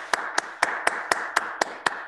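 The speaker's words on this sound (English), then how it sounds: "Let's give our students some snaps and some claps." An audience snapping fingers and clapping for students at an event, heard as eight sharp, evenly spaced snaps in a quick steady rhythm, close and crisp against a quiet background.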